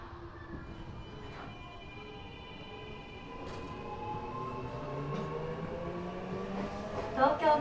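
Eidan 6000 series subway car fitted with reused 7000 series VVVF gear, pulling away on the Tokyo Metro Chiyoda Line: rising inverter motor tones climb steadily over rumbling wheel noise, growing louder as the train gathers speed.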